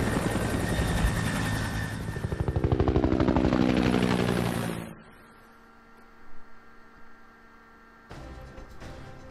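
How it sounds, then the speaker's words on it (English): A loud, throbbing helicopter roar with rapid rotor chop in the video game Hitman: Blood Money dominates the first five seconds, then cuts away to quieter rumbling and faint mechanical noise. "The helicopter is very loud."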